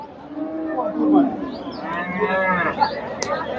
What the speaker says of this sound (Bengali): এই যে সুন্দর একটা ষাঁড় গরু।